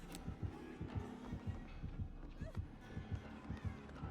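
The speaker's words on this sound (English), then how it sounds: "You hear the heartbeat." Heartbeat from a survival horror game, Dead by Daylight: a steady run of low, muffled double thumps that repeats throughout over a soft background hum.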